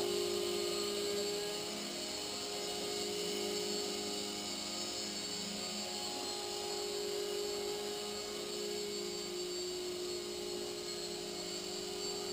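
Small propeller motors on an Airship 6045 RC blimp whir steadily with a constant high-pitched drone, holding an even level throughout and never letting up.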